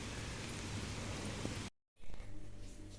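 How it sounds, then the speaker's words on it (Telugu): Heavy rain that has fallen steadily since the night pours down in a village, a dense, loud hiss filling the scene, cut briefly by a moment of silence before a quieter stretch of rain and low rumble follows. "ఓకే వర్షం ఎక్కువైపోతుంది"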